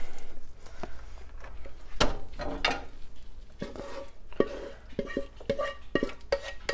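Cooked risotto scraped from a pot onto a metal sheet tray, giving a string of short metallic scrapes and clanks of spoon against pot and tray, close and moderately loud against a low background hum.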